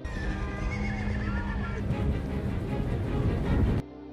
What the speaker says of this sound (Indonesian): pasukan berkuda entah dari kerajaan mana muncul mengepung seluruh kaum Wildings